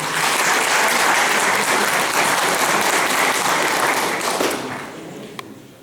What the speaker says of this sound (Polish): myślę, że dodatkowe brawa należą się do Patryka Roza